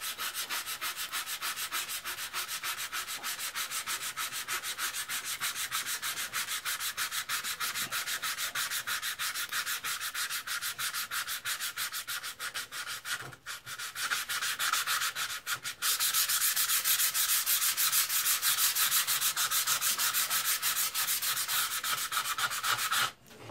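An old edge tool's crusty steel being sanded by hand with 100 grit sandpaper, a fast steady back-and-forth rasping stroke close up, briefly pausing then resuming louder and harsher, no talking.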